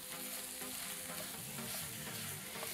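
Tomato frying in a pan for a pollock curry, a dense, steady sizzle with stirring close by, loud and unbroken throughout, and no talking.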